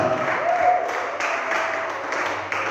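A church congregation claps and cheers to acclaim Jesus Christ, a short burst of steady applause with a voice briefly audible.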